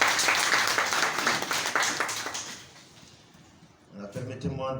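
An assembly applauds at the closing of a general assembly of a justice commission, steady dense clapping that fades out midway before a voice begins speaking.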